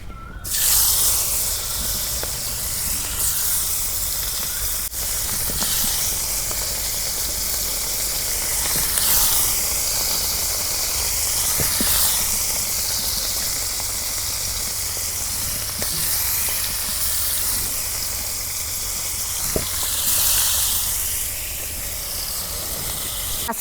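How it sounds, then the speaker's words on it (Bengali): Fish frying in hot oil for a traditional village-style Bengali dish, giving a loud, continuous sizzling hiss that swells and eases slightly throughout, with no talking. "গরম হয়েছে, এখন আমি মাছ ভাজে নেব।"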